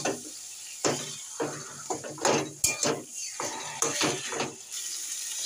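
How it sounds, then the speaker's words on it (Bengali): Taro leaves tossed into a pan of fried spices, a series of clattering utensil scrapes and soft sizzling, close and fairly quiet, with no talking. "মশলাটা কষানো হয়ে গেছে আমার। এই কচু শাকটা আমি দিয়ে দেবো।"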